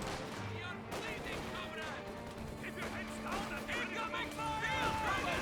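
Sniper rifle shots and battlefield gunfire from the Company of Heroes 2 real-time strategy game, sharp cracks and booms scattered through a dense mix of effects, with a commentator talking over it throughout.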